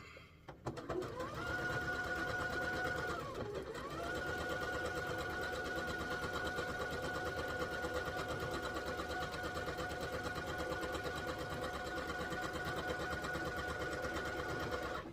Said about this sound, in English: now I have my square completely sewn all the way around